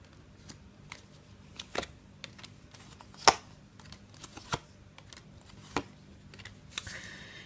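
Tarot cards being shuffled and handled, with soft scattered riffles and snaps at irregular intervals, fairly quiet and close, without talk.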